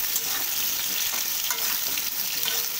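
Potatoes and pointed gourd fry on a low flame in a pan, giving a steady, close, even sizzle with faint stirring scrapes and no talking.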